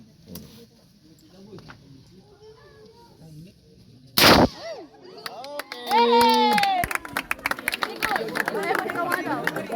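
Army rifles fire on a confidence firing range, one sharp loud report followed by overlapping shouted voices and a rapid, crackling string of shots and clatter, with people talking throughout.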